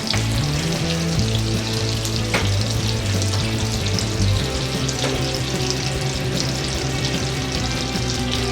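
Butter and a tablespoon of refined oil sizzle and fry steadily in a pan, a continuous close crackling hiss with faint stirring scrapes and no talk.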